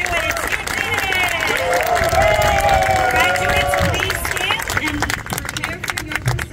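An audience at an elementary school graduation ceremony claps and cheers steadily for the graduates, a dense wash of applause with excited voices and calls rising and falling throughout.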